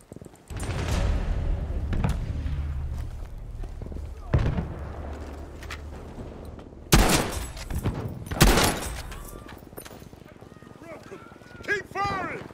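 Gunfire cracks in Battlefield 5 gameplay, with a few sharp loud shots and bursts spread across a battlefield din, under shouted voices and game chatter.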